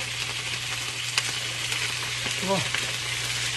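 Chicken and vegetables sauté in a pot for maqluba, a steady close sizzle with the scrape of a stirring spoon running underneath.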